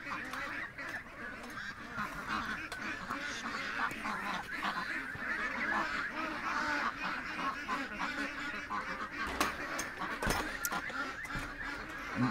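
A crowd of ducks in a pen quacks and honks continuously at a moderate distance, forming a dense babble of overlapping calls.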